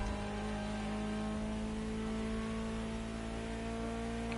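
Ferrari GTO engine in The Crew Motorfest racing game, a steady sustained drone at high revs under a constant hum, with no voices present.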